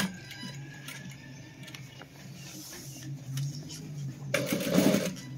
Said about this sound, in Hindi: अभी हम इधर इसकी सिलाई लगाएंगे